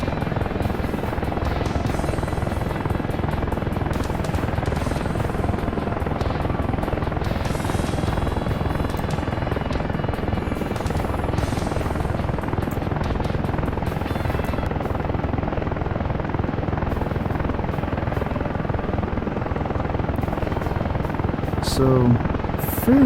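A continuous, loud rotor and turbine drone from an AH-64A Apache helicopter hover taxiing in the DCS flight simulator, steady throughout with no spoken words.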